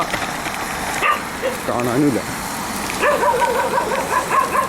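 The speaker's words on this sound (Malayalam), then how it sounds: "അവിടെ പട്ടികൾ കളിക്കണുണ്ട്" A few dogs yip and bark playfully in short bursts nearby, while a person talks over them.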